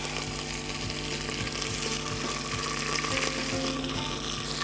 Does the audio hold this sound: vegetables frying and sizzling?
yes